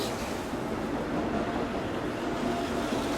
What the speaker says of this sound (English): I can't quite hear her over the train